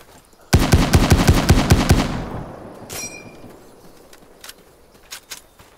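A rapid burst of automatic gunfire in the video game The Day Before, with sharp repeated cracks, followed by a decaying rumble and a few scattered clicks and metallic rattles.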